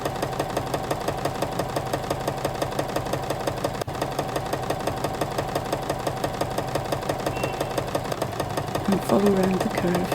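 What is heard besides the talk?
sewing machine stitching fabric strips together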